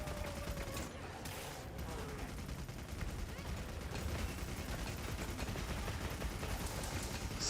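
Rapid gunfire rattles on without a break, a dense, loud barrage of overlapping shots filling the whole span, with a brief whine early on and a voice partly buried in the din.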